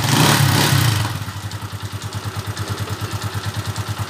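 A Honda TMX155 motorcycle engine idles after an overhaul: a brief louder rev, then a steady, even low putter with regular rhythmic pulses, close and alone.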